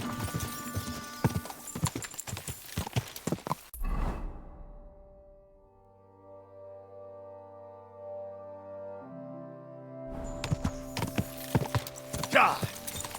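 Horse hooves clatter in a rapid galloping rhythm in the video game Kingdom Come: Deliverance 2, with whooshes and shouts. The hoofbeats drop away into a quiet musical stretch in the middle, then return and pound hard again.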